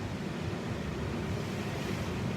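Ocean waves roll and break at a surf beach, a steady close wash of surf mixed with wind rumble, continuous and even with no voices.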